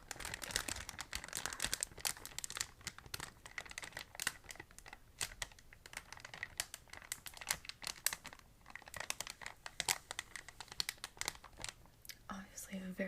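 A crinkly plastic grocery bag rustles and crackles in close, dense bursts throughout, with quiet soft-spoken talk underneath.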